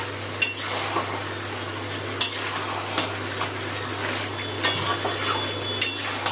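Chicken pieces stir-fried with spices in a pan, a low sizzle under repeated scraping and clinking strokes of a metal spatula against the pan at irregular intervals, close by.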